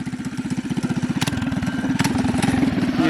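A doodle bug minibike engine built from Amazon parts revs hard and close, a rapid pulsing putter that climbs steadily in loudness as the throttle opens.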